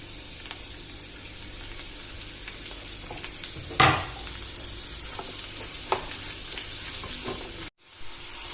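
Onions fry in a pan with curry leaves and salt for an onion gojju, a faint steady sizzle with a few sharp stirring clinks and scrapes.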